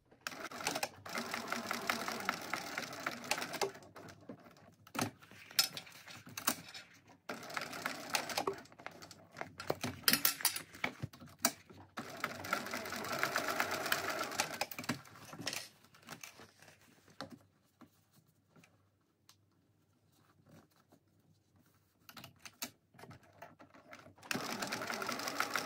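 Sewing machine stitching a handbag in several bursts of rapid mechanical chatter, close and clear, separated by quiet pauses with a few small clicks and handling sounds, no voices.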